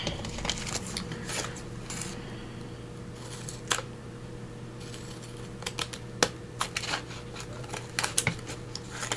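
Sharp snipping clicks of sticky scissors cutting paper and lace, irregular and close, with a low steady hum underneath and no talking.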